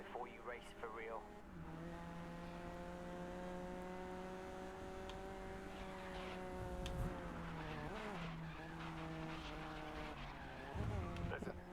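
A Honda NSX race car in the GRID Legends racing game holds a steady, droning engine note that shifts pitch through the corners, with occasional tire squeal and faint voices underneath.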